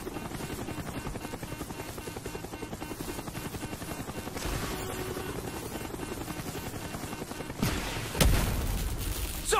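Helicopter in the game Call of Duty: Black Ops, its rotor thumping in a fast, steady pulse throughout, with heavy booms and bursts of gunfire near the end.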